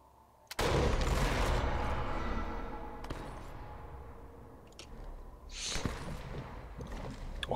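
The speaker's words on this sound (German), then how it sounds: "Oh, von da drüben ballert auch noch irgendein Arsch." Loud rolling bursts of enemy gunfire in the video game Sniper Elite 4, a sharp blast followed by a long reverberating rumble, then more distant cracks and shots echoing through the scene.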